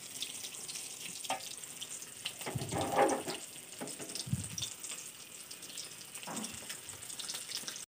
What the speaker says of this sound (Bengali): এদিকে আমি মাছ ভাজা বসিয়ে দিয়েছি